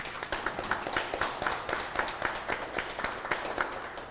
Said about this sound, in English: I think we need to give her a round of applause, Rosalind.